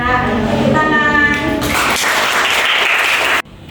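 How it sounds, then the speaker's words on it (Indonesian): Students in a secondary school mathematics class break into clapping after a voice finishes speaking, a loud burst of hands that cuts off abruptly near the end. "Tepuk tangan."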